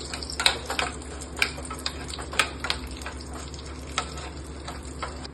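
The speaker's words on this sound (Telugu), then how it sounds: "తాలింపులో వేసుకున్న తర్వాత వేయించుకోవాలండి" Cashews, cumin, pepper powder and asafoetida sizzle in hot oil as a tempering for a jowar rava and drumstick kichidi. A soft, steady frying hiss is broken by sharp, irregular crackles and pops, with no talking.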